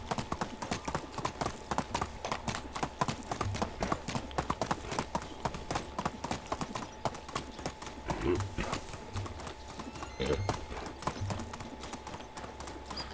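Riding a horse in Medieval Dynasty produces a steady, rapid clip-clop of hooves that carries on throughout, with faint game ambience beneath.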